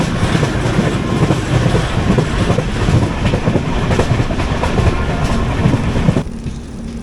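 A passenger train, the Tambaram to Kochuveli summer special via Sengottai, heard from inside an AC economy coach: a loud, steady rumble with rhythmic wheel clatter on the rails that drops away near the end.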